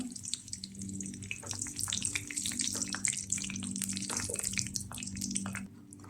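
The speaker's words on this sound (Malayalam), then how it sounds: "ഇതിൻ്റെ അകത്തേക്ക് നമ്മൾ എടുത്ത് വെച്ചിരിക്കണ മുളക് കൊണ്ടാട്ട് ഇട്ട് കൊടുക്കുക" Curd chillies (mulaku kondattam) fry in hot coconut oil, a dense close crackle of popping bubbles over a low hum, steady throughout and without talk.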